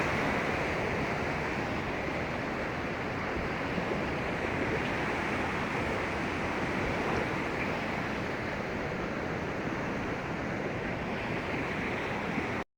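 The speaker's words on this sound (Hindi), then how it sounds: "और ये जो है ना सिंधु दरिया का पानी है।" Water of the Indus river flowing in a village setting in Sindh, a steady, broad rushing wash that holds constant throughout with no voices.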